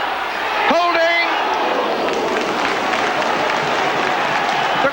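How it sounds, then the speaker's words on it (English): Rugby league stadium crowd at a St Helens versus Hull match, a broad continuous roar and cheer rising and swelling, with a sharp whistle-like tone near the start and commentary talk over it. "The crowd roaring and rising to their team."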